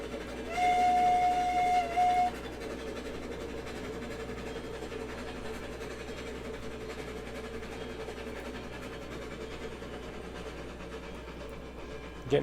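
A train engine runs in the railroad video game Railroads Online, a steady low rumble throughout, with a brief high whistle-like tone near the start and no talk.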